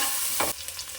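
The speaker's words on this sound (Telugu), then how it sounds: "దాన్ని హై ఫ్లేమ్లో పెట్టుకొని ఫ్రై చేసుకోవాలి." Beef biryani ingredients fry on a high flame until golden brown. The oil gives a loud, continuous sizzle, briefly stirred in a one-second burst, with no voices.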